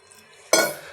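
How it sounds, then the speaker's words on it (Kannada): Flour dough with salt, oil and water worked in a bowl with a spoon, a sudden burst of scraping and clinking starting midway, close and fairly loud after quiet. "ನೀರು ಹಾಕಿ ಮಿಕ್ಸ್ ಮಾಡ್ಕೋಬೇಕು"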